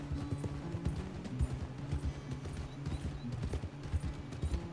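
Horse hooves clip-clop steadily on the ground in the video game Red Dead Redemption 2, a brisk, continuous rhythm of moderately close hoofbeats with no talking.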